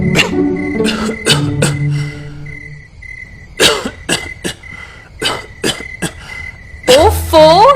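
An old man coughs in repeated harsh bursts, close and loud, with throat clearing between fits and short spoken words in between.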